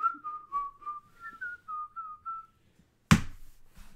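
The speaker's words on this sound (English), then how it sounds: "I whistled." A person whistles a short, lilting tune of about a dozen clear notes during a board game, fairly quiet and alone, ending before a sudden sharp knock or clatter.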